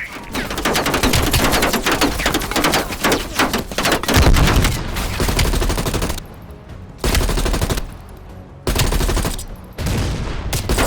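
Machine gun fire in Call of Duty: Black Ops Cold War, loud sustained bursts of rapid shots with dense battle noise, broken by a few short pauses before the firing resumes.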